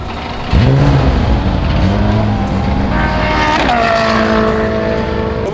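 Lamborghini Huracán GT race car at a track event accelerating hard from about half a second in, its engine note climbing through gears with a loud, close, sustained roar and a brief shift mid-run.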